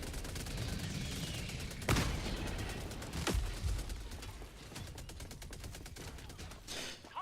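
Autocannon fire in an online shooter video game, a few heavy booming shots spaced seconds apart over a continuous roar of background battle noise, fairly faint overall.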